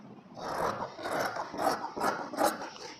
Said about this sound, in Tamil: இப்போ இதை ஸ்லீவை கட் பண்ணிக்கலாம்.